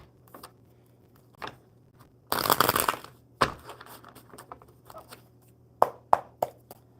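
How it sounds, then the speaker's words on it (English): Playing cards shuffled by hand at a table during a coffee-and-cards live stream: one loud, dense riffling burst followed by scattered softer taps and snaps of the deck, close and without talk. "these cards are not shuffling well today"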